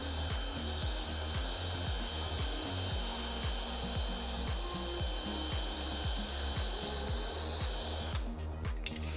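A battery-powered heat gun blows a steady, loud whirring roar with a pulsing low thrum while it works on faded black car trim, continuous and close throughout, cutting out near the end.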